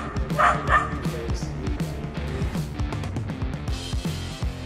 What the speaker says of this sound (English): the dog decided to bark at it